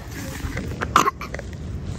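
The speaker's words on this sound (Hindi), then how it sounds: "और अभी मेरे ऊपर आके खांस रहे हैं." A single sharp cough comes through close by over low background murmur, brief and a little louder than the surrounding ambience at a café.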